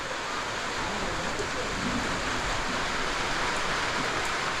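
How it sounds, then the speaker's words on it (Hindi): Steady, dense hiss of heavy rain pouring down in the Mukteswar hills, a constant wash of noise with no breaks across the whole stretch. "बहुत ही तेज बारिश हो गई है"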